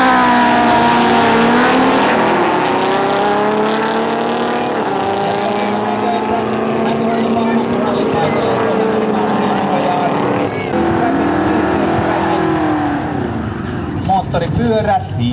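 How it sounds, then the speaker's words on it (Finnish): A Volkswagen Beetle in the heads-up class at a Vaasa street drag race in 2010, its engine revving and roaring loudly with shifting tones, with a commentator talking over it throughout. "Ja oikealle radalle Timo Mäntyharju Volkkari kuplalla."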